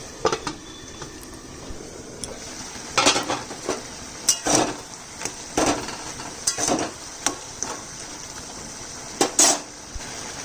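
A cooking pot of bottle gourd with mung dal and chopped green chilli being handled and covered with its lid, a series of sharp metallic clinks and scrapes spaced irregularly over a quiet kitchen background.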